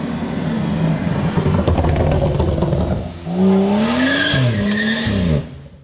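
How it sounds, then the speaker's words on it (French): A BMW 435i coupé with a crackle map, engine loud and close, revving with tyre squeal and harsh pops, then a second rising and falling rev that fades out at the end. "il y a aussi un pop and bang sur la voiture donc crackle map"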